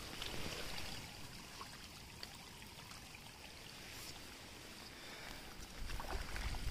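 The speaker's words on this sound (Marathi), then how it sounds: "या बांधातून हे पाणी येते" Clear water flows steadily from a small embankment dam feeding a paddy field near Mahabaleshwar, a continuous broadband rushing and trickling heard close up with no talking.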